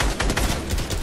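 Video game gunfire in a shootout: a rapid, continuous volley of loud shots packed close together throughout a brief moment, with no talking.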